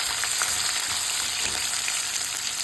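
Onions sautéing with curry leaves in a pan for a ridge gourd thuvaiyal give off a steady, close sizzle that holds evenly throughout, with faint crackles and no voices.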